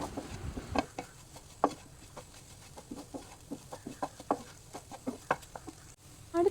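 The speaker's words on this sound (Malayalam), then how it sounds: "എല്ലാം കൂടെ നല്ലോണം ഒന്നുകൂടെ ഒന്ന് ഇളക്കി യോജിപ്പിക്കാം." A spatula stirs bread masala mixture in a pan for a cheesy bread masala snack, giving close, irregular scraping clicks and taps in quick bursts with no voices.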